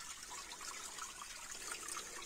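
A small flow of clear water trickles from under a stone in the woods, a faint, steady, bright babble with no voices.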